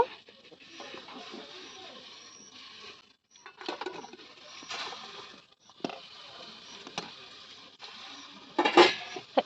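Potatoes and four eggs lowered into a pot of boiling water, giving scattered clinks and knocks of metal and shell against the pot, with a sharper clatter near the end and no talk.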